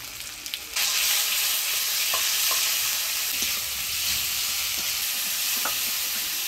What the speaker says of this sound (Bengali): সব মশলাপাতি দিয়ে ভালো করে নাড়াচাড়া করে নিলাম